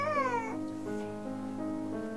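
A cat meows close up, first with a bright rising cry and then with longer, lower drawn-out calls across about two seconds. The meows are clear and steady, with no talking.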